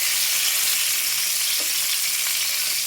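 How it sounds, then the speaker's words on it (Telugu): Slices of bitter gourd fry in a pan of hot oil, giving a steady, even sizzle throughout, close and fairly loud, with no voices. "కాకరకాయ కొంచెం సైడ్కి కూడా బాగా వేగుతాయండి."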